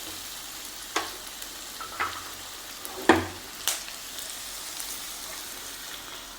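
Garlic chicken being stirred in a pan, with a low steady sizzle and a few sharp spatula scrapes and clinks against the metal, close by and with no talking.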